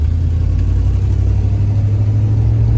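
A white Ford Bronco truck on the move: a loud, steady, close low engine and road rumble with no breaks.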